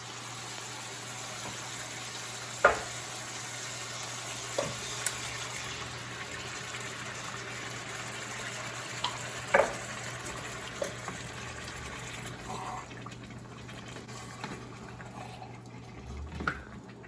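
Tomatoes hiss and sizzle in a hot pan with sausage and hot cherry peppers, a steady bubbling crackle punctuated by a few sharp pops and spatters.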